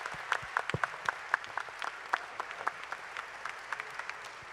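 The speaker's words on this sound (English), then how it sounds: "round of applause" Audience applause at a Star Wars Celebration Europe art panel for The Force Awakens, a moderate patter of many hands clapping in an indoor hall, steady and fairly distant, with scattered louder claps throughout.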